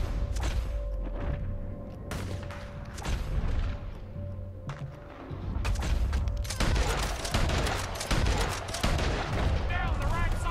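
Gunfire rattles through a Red Dead Redemption 2 gameplay session, with repeated shots and thumps building into a dense, continuous barrage in the second half, under and around talking voices.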